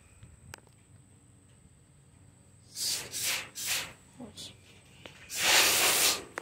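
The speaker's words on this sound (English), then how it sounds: "I'm gonna spray all these outlets." Several short bursts of aerosol insecticide spray hiss in quick succession at a hornet nest, then a longer sustained spray, close and fairly loud over a quiet background.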